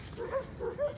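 A border collie in a sunny dog park gives a few short, soft yips and whimpering barks, close by and in quick succession, with no talk over them.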